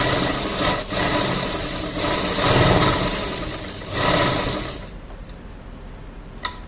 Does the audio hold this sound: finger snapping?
no